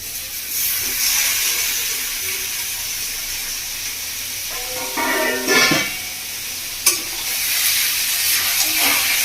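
Chicken pieces hit a hot pan and sizzle loudly, with a steady hiss of frying and a few scraping stirs and clanks of a spatula, all for a village-style chicken kosha with soyabean chunks.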